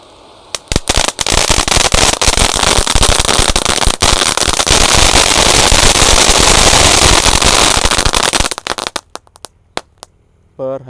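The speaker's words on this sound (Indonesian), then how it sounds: "Kita nyalakan. Sudah menyala ini. 3 sekaligus conic fountain." Three conic fountain fireworks lit together on Takbiran night throw off a loud, dense, continuous crackling spray for about eight seconds, then sputter out into scattered pops and near silence.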